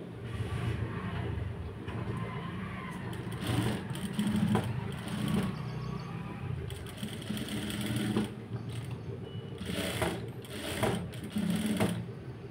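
Sewing machine stitching thread piping onto garment lining, a steady continuous mechanical whir with brief pauses and restarts, close and moderately loud with no talking.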